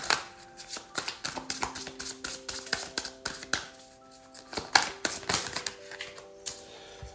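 Tarot cards being shuffled by hand, rapid crisp flicking and snapping clicks in quick uneven bursts, close up and moderately loud, with faint tonal ringing in the background and no talking.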